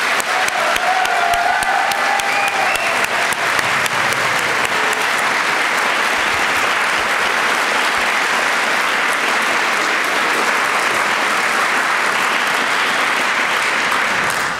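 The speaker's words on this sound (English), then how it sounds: "Can we give one more round of applause for all the outstanding graduates and their mentors?" Sustained audience applause fills a graduate awards ceremony hall, steady and loud clapping from a large crowd throughout, with no speech over it.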